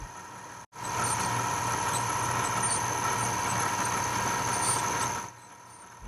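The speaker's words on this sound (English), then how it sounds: "here you can see it makes easy work out of the cuts we need to make for the lamp base" A milling machine cuts scrap metal for a lamp base, a continuous grinding whine with a steady high tone that starts abruptly, runs for about four and a half seconds, then drops away.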